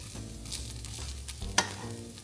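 Cubes of tempeh fry in olive oil for plant-based meal prep, giving a steady close sizzle. A spatula stirs them through, with scraping pushes and one sharp clack near the end.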